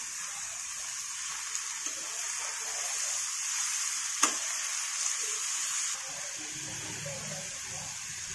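Ridge gourd pieces added to onions and green chillies fry with a steady, even sizzle in a pan, broken by a single sharp clink partway through, then the sizzle eases slightly.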